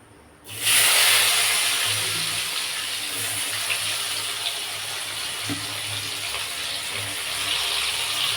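Onion goes into hot oil already seasoned with cinnamon and cumin, setting off a sudden loud hiss that settles into a steady, close frying sizzle lasting several seconds.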